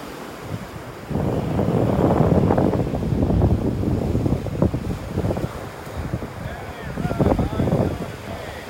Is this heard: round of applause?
no